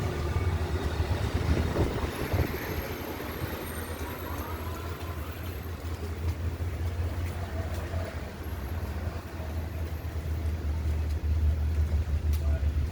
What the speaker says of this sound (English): There are the buses, look. I think they're electric.